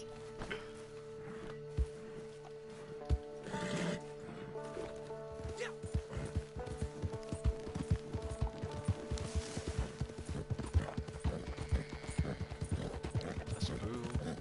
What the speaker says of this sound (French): Le cheval, est-ce qu'il court pas vite?